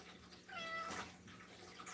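A cat gives one short, fairly faint meow over a low background hum indoors.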